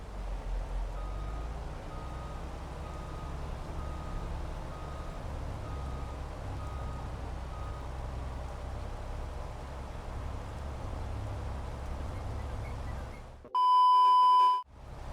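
A farm vehicle pulling a full trailer back and forth in Farming Simulator 22: a low engine rumble with faint, evenly spaced reversing beeps, then a sudden loud, sustained electronic tone near the end.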